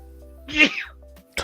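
A single sharp sneeze bursts out during a live Commander card game session, brief and close, with a short vocal sound following just after.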